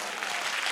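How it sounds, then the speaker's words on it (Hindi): A conference audience claps loudly in a hall, a dense, steady wash of applause filling a brief moment with no speech over it. "जोर से बजाना ताली"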